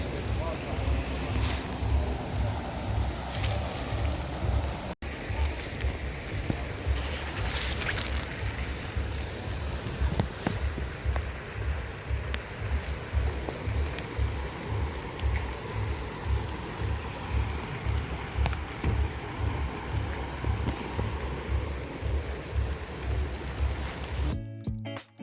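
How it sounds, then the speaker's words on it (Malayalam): Heavy rain pours at Ayn Tobruk waterfalls in Salalah, Oman. A dense, continuous rushing hiss fills the whole stretch, loud and steady, with a faint rhythmic low throb beneath. "നല്ല മഴയാണ്."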